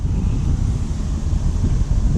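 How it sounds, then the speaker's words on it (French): Strong wind at a fishing lake buffets the microphone with loud, continuous low rumble and gusty roar, no voices heard. "il y a pas mal de vent aujourd'hui"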